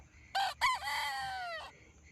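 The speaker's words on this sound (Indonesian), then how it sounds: "Matahari telah menyingsing. Ayam pun telah berkokok." A rooster crows once at sunrise, a loud, close cock-a-doodle-doo with a short opening note followed by a long, drawn-out call over quiet farmyard background.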